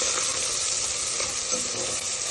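Sliced onions, green chillies and whole spices frying in hot oil for chicken pulao, a steady, dense sizzle and crackle held close and loud throughout, with no voices.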